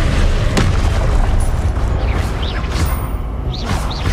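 A Confringo spell explodes in a Hogwarts video game, a loud, dense boom that rumbles on without a break and is layered with crackling game effects.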